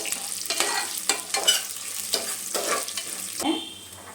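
Spices roasted together in a pan for hotel-style idli sambar, with a spatula scraping and stirring in repeated short strokes over a light frying crackle, close and fairly clear, with no talking.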